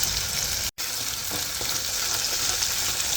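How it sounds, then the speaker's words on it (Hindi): Onion and ginger-garlic paste frying in a pan with fresh grated turmeric, a steady close sizzle with faint stirring scrapes, continuous apart from one brief silent gap near the start. "तो यहाँ पे हमारे प्याज और जिंजर गार्लिक की पेस्ट डाली थी, वो भी भून गई"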